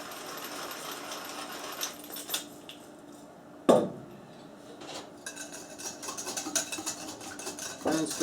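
A spoon stirring a quick vinaigrette seasoned with black pepper in a bowl, giving sporadic light clinks and scrapes with one sharper knock in the middle and no talking.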